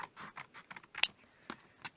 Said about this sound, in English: So I'm going to get my scissors now and start to cut some of these up